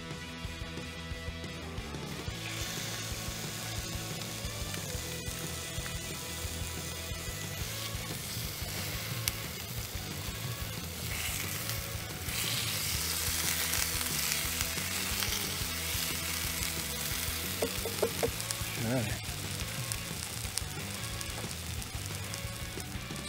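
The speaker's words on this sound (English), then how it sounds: "So these rumps are cooking away" Rump steaks sizzle over medium to high heat on an induction cooker, a dense continuous close frying hiss that swells slightly louder midway, with no talking.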